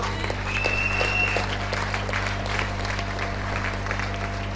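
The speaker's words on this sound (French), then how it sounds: "ça c'était l'acclamation pour elle" Audience applause and cheering at a church testimony gathering, a short burst of clapping over a steady low hum, with a brief whistle-like tone near the start.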